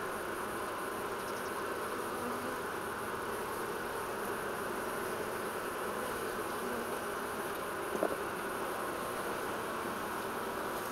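Honey bees hum steadily around a beehive in a continuous, dense buzz that holds without pause, with one brief faint tap near the end.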